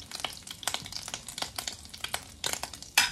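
Bread sizzles and crackles in a hot pan, a steady frying hiss with small pops, fairly quiet and close.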